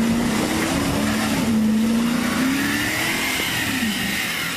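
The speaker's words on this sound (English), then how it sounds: "If you just keep spinning the tires hard enough" A car spins its tires on thin spring ice, the engine revving steadily at a high, whining pitch with a rising tone, loud and continuous throughout without a break.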